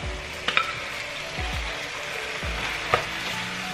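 Lamb being stirred into hot spiced oil in a pan for a slow cooker curry, a steady close sizzle broken by a few soft scraping stirs and light clinks of the spoon, with no voices.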